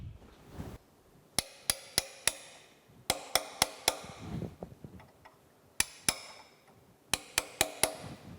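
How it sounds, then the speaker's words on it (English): Sharp metallic hammer blows striking a punch to drive tapered pins while reassembling a radial drill's universal table, in quick bursts of three or four, close and loud, with short pauses between groups. "Let me get a hammer and a punch."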